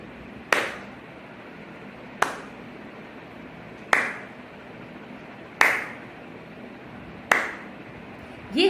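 In a music lesson on taal rhythm, a single person claps five sharp, crisp claps at evenly spaced intervals about a second and a half apart, with quiet room tone between each clap and no talk.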